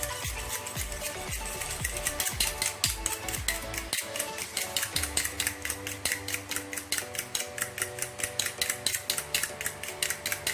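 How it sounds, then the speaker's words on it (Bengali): An egg is beaten briskly with a utensil against a bowl, a fast, even run of sharp clinking taps, close and loud, with no talking. "এভাবে ডিমটাকে খুব ভালো করে বিট করে নিতে হবে।"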